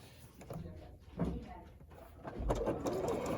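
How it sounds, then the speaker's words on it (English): Sewing machine stitching rows of a quilt sampler block, an uneven close rhythm of stitching bursts and short pauses with light handling noises. "we're going to start sewing in rows"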